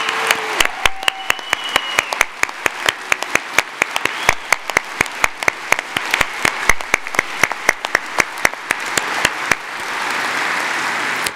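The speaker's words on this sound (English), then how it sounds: "I think our applause shows you how much we are thankful for your service" An audience at a university commencement applauds veterans, with a steady crowd of clapping and one close, sharp clapper beating a fast, even rhythm throughout before it thins out at the end.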